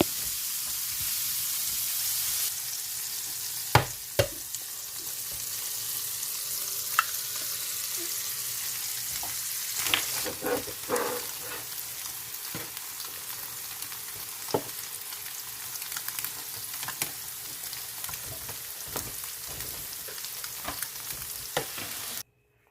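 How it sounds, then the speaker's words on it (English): Shredded hash browns, ham steak and eggs sizzle steadily on an electric griddle, a continuous broadband frying hiss with occasional scraping and clicking of a spatula throughout. "some shredded hash browns, some ham steak, and eggs on the electric griddle"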